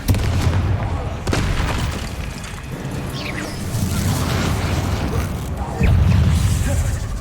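A Confringo explosion spell cast in the video game Hogwarts Legacy, heard as loud booming blasts and crashes over dense, continuous game noise, with a voice speaking at times.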